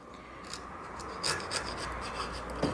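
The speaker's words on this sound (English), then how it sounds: "I'm going to get rid of that with a file, maybe a little small chisel" Hand file rasping over old wood during a park bench restoration, a steady low scraping with a few louder strokes near the end, close and moderately quiet.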